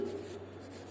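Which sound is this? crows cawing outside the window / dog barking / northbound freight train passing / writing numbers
writing numbers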